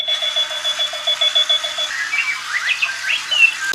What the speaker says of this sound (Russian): Бегающий будильник.